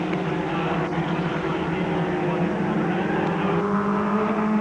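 Touring cars race at the Lakeside circuit in the 1991 Australian Touring Car Championship, their engines holding a loud continuous roar as they sweep under a bridge, and a commentator talks over the sound.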